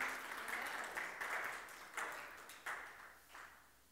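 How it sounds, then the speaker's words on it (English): Congregation clapping hands together at a Sunday church service, a steady wash of applause with a few sharper swells, moderately loud with no voices over it. "Let's give a hand clap to the Lord for our teens and our youth."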